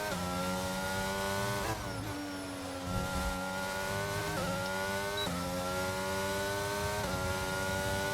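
Race car engine in wheel-to-wheel racing at a China round, a loud high whine climbing through the gears with sharp dips at each shift, heard continuously with no talk.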